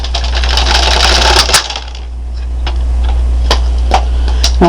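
A knitting machine carriage rattles across the needle bed to knit a row, a loud mechanical clatter with sharp clicks over a steady low hum.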